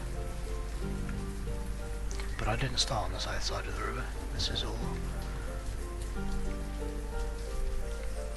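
Rain falling in the city-building video game Banished, a steady soft patter under continuous narration and background music.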